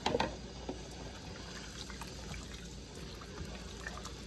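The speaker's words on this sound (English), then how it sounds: "And then I'm just going to add a little bit more water." Water pours into a pot of brown stew beef with orange and green peppers, a faint steady liquid trickle and gurgle with a small splash at the start, with no talk.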